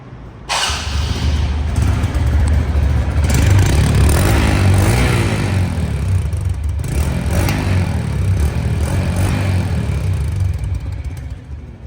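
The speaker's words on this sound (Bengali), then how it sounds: "গাড়িটা আপনাদেরকে এখন স্টার্ট দিয়ে সাউন্ডটা দেখাবো সাউন্ডটা কীরকম অবস্থায় আছে" A TVS Metro Plus 110 cc motorcycle engine fires up suddenly and keeps running with a loud, steady rumble, swelling briefly as it revs, then settling.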